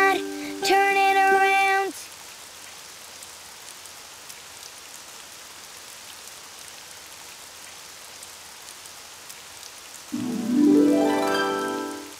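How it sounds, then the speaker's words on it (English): Rain falls outside as a steady soft patter under the whole passage, with bursts of cartoon music at the start and end. "Oh, it's raining outside."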